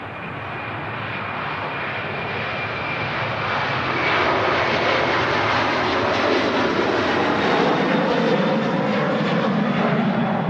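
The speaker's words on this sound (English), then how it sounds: "Well, there's an A330 rolling." An Airbus A330 takes off from Manchester Airport, its engines building into a loud, steady roar that swells and holds strong throughout, with no talk over it.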